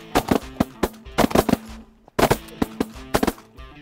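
Shotgun blasts fired at Canada geese over decoys during a goose hunt in Alberta, with several loud, sharp reports in quick bursts separated by brief pauses.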